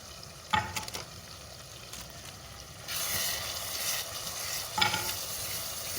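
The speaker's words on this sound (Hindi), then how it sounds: "इसको अच्छा से इसमें भून लेते हैं।" Ground spices fry in a pan for white lentil daal mash, giving a steady soft sizzle under scraping stirs. A louder, brighter frying hiss comes in halfway through, and no one speaks.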